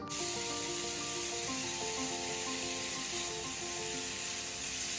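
Shallots hit hot sesame oil in a wok for Thai shrimp fried rice, a sudden sharp sizzle that settles into a steady, moderately quiet hiss with soft background music underneath.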